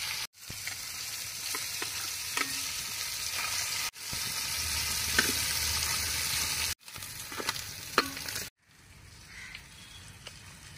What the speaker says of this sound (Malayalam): അപ്പോൾ നമ്മുടെ ചെമ്പല്ലി ഫ്രൈ ആയിട്ടുണ്ട്